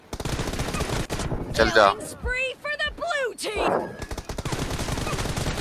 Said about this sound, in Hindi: बैक से फायर मार रहा है वो